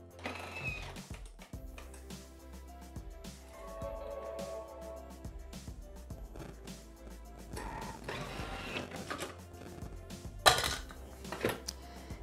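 A Thermomix rattles and whirs as it chops hard pieces of white chocolate, a busy clattering grind with a few louder knocks toward the end.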